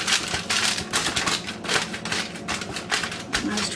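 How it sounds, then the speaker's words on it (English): Aluminum foil crinkled and pressed down over a lasagna dish to seal it, a loud, close, continuous rustling with rhythmic crackly bursts throughout. "I always put my lasagna under aluminum foil"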